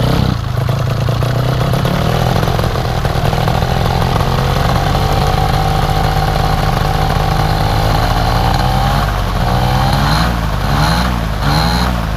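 A paramotor engine runs loud and close over a village in Wapi Pathum, Thailand, droning steadily before revving up and down in surging waves toward the end.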